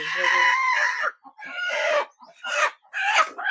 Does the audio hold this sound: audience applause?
no